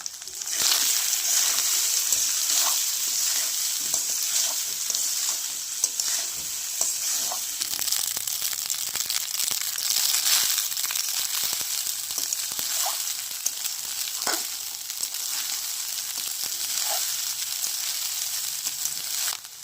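Leftover rice stir-fried with fried potatoes and Kashmiri chilli powder sizzles steadily in a hot pan, with repeated scraping and stirring knocks close by and no speech.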